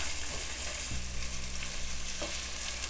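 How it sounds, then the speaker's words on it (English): Onions sauté in a pan for a potato, peas and carrot curry, giving a quiet, steady sizzle broken by a few stirring scrapes. "saute for a couple minutes, then we're gonna add onions."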